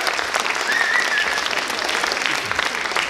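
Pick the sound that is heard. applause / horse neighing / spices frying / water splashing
applause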